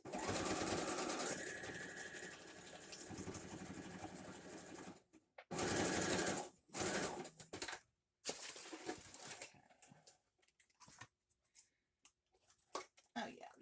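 A sewing machine stitches across the top of a window envelope flip pocket: a steady close whirring run for several seconds, then broken into short bursts and pauses with quiet handling sounds between.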